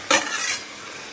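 Chicken pieces drop into a hot pan of fried fenugreek greens, giving a sharp sizzling burst with a stirring scrape that settles into a steady, close frying hiss.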